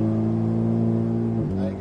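An Alpine car is driven on a racing circuit, its engine a loud, close, steady drone that shifts pitch near the end as it accelerates.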